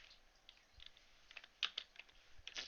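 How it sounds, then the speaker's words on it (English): A computer keyboard is typed on, quick irregular clicks and taps in short bursts, close but quiet, with no voices. "let me just type it out"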